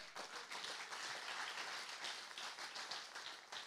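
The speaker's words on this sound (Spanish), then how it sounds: "¿Cuántos pueden aplaudir esa palabra?" A church congregation applauds during a sermon, a steady, fairly soft wash of many hands clapping that carries on for several seconds with no talking over it.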